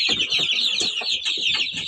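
A Kuchinsky breed hen clucks continuously at close range, with low, rapid, repeated clucks over a constant high-pitched background hiss.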